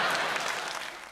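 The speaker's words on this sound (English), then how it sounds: "they're clapping like they had some sense out there, Michael." An audience bursts into brief, dense applause, many hands clapping together in a loud wash that fades slightly over about a second.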